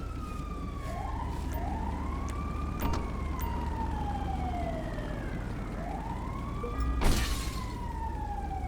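A video game ambulance siren wails, sweeping up and down repeatedly over a steady low engine rumble, with a brief sharp burst near the end.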